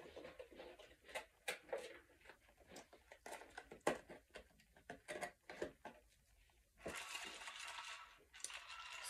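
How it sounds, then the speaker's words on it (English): Ice cubes clatter into a julep glass for a mint julep in a series of sharp, close clicks and clinks, irregular and moderately loud, with a brief rattling burst near the end and no talking. "Fill it with ice."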